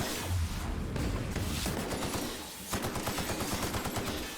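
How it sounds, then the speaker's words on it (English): Assault rifle gunfire in the sci-fi shooter The Outer Worlds: dense, continuous automatic bursts with booming low thuds, a brief lull midway, then rapid rhythmic shots resuming, loud and close. "Where's the assault rifle? I think it'll kill them faster."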